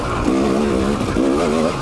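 2019 KTM 300 XC W TPI two-stroke dirt bike engine, close and loud, revving in two rising and falling bursts with a buzzy, raspy tone.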